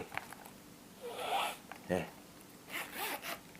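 A zipper on an imported Italian leather wallet is pulled several times, giving close, raspy zipping strokes. Each stroke lasts under a second, and the strokes run over a low background hum.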